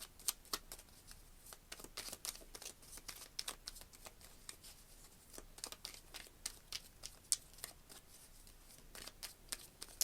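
Tarot cards drawn and shuffled from a deck, a quiet run of crisp papery snaps and slides in irregular bursts, close up, with no voices.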